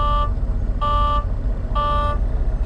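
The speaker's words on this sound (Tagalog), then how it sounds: "below 60, talagang yung alarm niya, oh yan, talagang tutunog" A truck's low air pressure warning alarm sounds in three repeated electronic beeps, each roughly half a second long and evenly spaced, over a steady low idling engine rumble.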